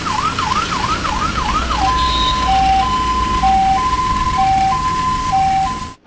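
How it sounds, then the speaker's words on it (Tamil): An ambulance siren wails rapidly, then switches to a steady two-tone hi-lo pattern, loud over the rumble of road traffic. "சாலை எங்கும் சைரன் சத்தம் அதிகரிச்சிருக்கு"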